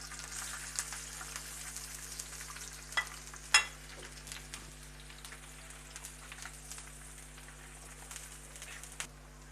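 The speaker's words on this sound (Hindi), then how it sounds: "जब ये प्याज मैंने इसमें डाल के मैं फ्राई कर रहा हूँ कढ़ाई में" Onions fry in cooking oil in a kadai with a soft, continuous sizzle, occasional stirring scrapes and one louder clatter near the middle, against a low steady hum.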